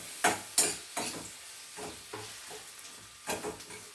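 Tomatoes sautéing in a pan for a dhaba-style paneer dish come through as soft sizzling broken by repeated scraping stirs, several distinct strokes spaced unevenly, fairly close but quiet, with no talking.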